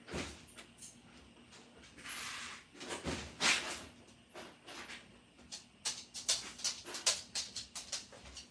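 A dog whimpers and whines in short high bursts outside a door, wanting back in, quiet at first then growing into a rapid series of sharp, faint cries near the end.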